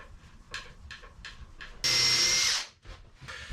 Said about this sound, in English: I'm gonna put a screw in temporarily just to hold it while I drill the other one